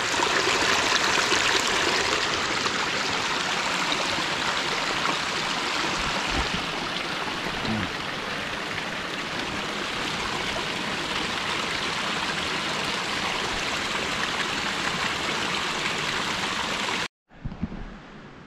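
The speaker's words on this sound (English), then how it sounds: "Nice little waterfall. Got the ferns going there." Small waterfall beside a mountain trail, a continuous close rushing and splashing of falling water that stays steady and loud before cutting off abruptly near the end.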